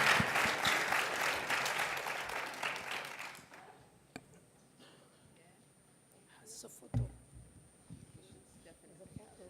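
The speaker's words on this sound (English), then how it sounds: "join me in giving our panelists a round of applause." An audience applauds panelists at a women innovators youth event, dense clapping filling the opening seconds before fading out, followed by quieter room noise with a few knocks and faint voices.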